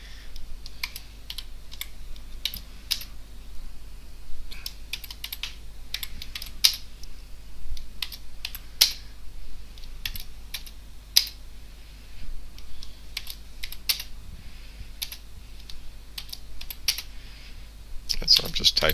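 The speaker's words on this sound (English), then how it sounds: "I'm just typing in the letters" Someone types on a computer keyboard while entering chord symbols in Sibelius notation software, a steady run of light, close key clicks with irregular rhythm, plus a few louder taps.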